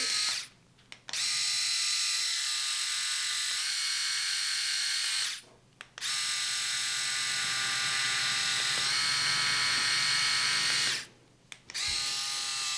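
A Kensen 7D electric head shaver hums steadily up close, a bright buzzing motor tone that cuts out briefly about every five seconds before starting again, with no talking.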